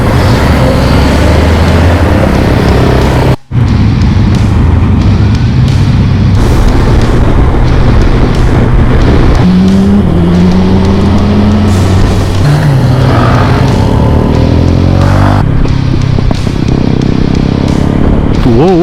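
A Kawasaki Versys 1000 motorcycle under way on a road near the Haryana-Rajasthan border, its loud, steady engine and wind roar running throughout with rising and falling pitch, briefly cut once by a sharp dropout.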